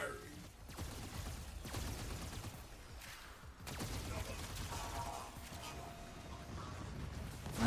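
A ship fires torpedoes in the video game Warframe. Faint, repeated launch thumps and bursts sit within a steady rumbling game soundscape, under quiet talk.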